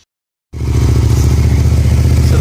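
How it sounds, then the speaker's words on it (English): A Hyosung GT650 motorcycle engine fires up after a brief silence and settles into a loud, steady, close idle with a rhythmic mechanical pulse; a manual cam chain tensioner has just been fitted. "So I'll just start the bike."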